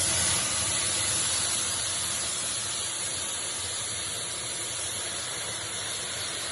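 Red wine poured into a hot pan with pan-seared steak and onions, giving a steady, broad hiss of sizzling steam that holds fairly constant for several seconds, with no voices over it.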